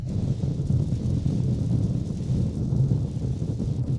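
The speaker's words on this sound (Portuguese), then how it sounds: "Agora estou ouvindo o barulho do vento." Steady low wind roar buffets a Peugeot 3008 Hybrid cruising at highway speed on a windy day, a continuous rumbling rush inside the cabin with no breaks or voices.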